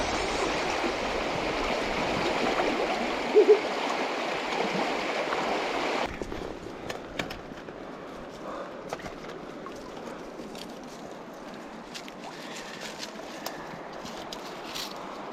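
A river flows on rural private land, a steady rushing wash that is fuller at first, then drops to a softer, closer trickle with small splashes and clicks.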